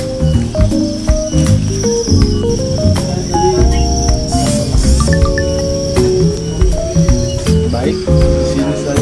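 Dense, loud chirping from many crickets packed together on a cricket farm, a continuous layered trilling that fills the space without pause.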